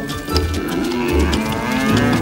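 Cattle lowing in a narrated storybook scene, several deep, drawn-out moos rising and falling one after another, loud and close, with no speech over them.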